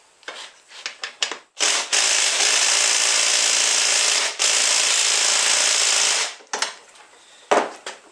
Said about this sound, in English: I'm going to use an impact wrench